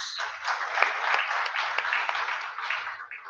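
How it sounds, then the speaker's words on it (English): Steady applause from a crowd, many hands clapping continuously at moderate volume with no pauses. "She deserves a big applause."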